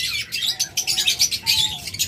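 A split blue mutation pair of high-marking, clear-headed pet birds chirps and tweets in quick, overlapping bursts at close range, with no voices.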